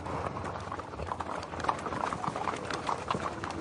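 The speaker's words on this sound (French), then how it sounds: "on balade nos chevaux" Horses' hooves clip-clop steadily along a town street during a transhumance drive, a dense, continuous patter of many overlapping hoofbeats at moderate distance, with no talking.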